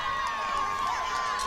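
Crowd noise at a high school football game between the Oologah Mustangs and Cushing Tigers, a steady broad murmur of the stands with scattered shouts, continuous and moderately loud throughout.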